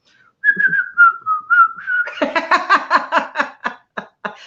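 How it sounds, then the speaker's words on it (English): A single wavering whistled note is held for about two seconds, then breaks into a burst of rhythmic, close laughter. "I should be whistling a happy tune right now"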